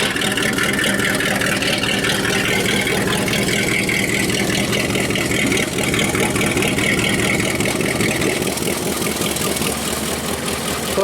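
An AMC 401 V8 in a worn Jeep idles loudly and up close, a rough, rumbling steady run with a rapid uneven pulse and no pauses.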